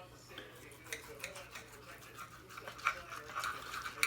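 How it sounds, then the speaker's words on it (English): A knife saws into a grilled steak with quiet, repeated scraping and light clicks against a plate, soft and close, with faint room noise behind. "cut into this steak and see what we have here"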